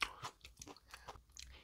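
Close crunchy chewing of a bibimbap-style bread filled with crisp salad and seasoning sauce, a quick irregular run of wet crunches and bites heard up close with no talking.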